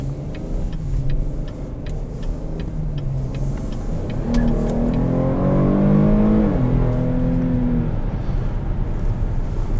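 Engine of a 2020 Cadillac XT6 Sport heard from inside the cabin as it accelerates, a steady low drone rising in pitch and dropping back through quick automatic gear shifts, with a faint ticking and no talking.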